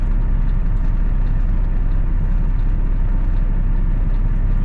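A truck's engine idles steadily while queued at a border crossing, a constant low rumble close by with no talk over it.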